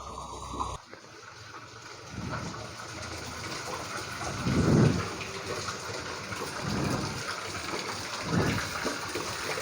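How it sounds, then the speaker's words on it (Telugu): Continuous rain falls outside a house in Hyderabad, a steady watery wash with swelling gushes of runoff, heard from close by without voices. "కంటిన్యూస్లీ వస్తూ ఉంది వర్షం"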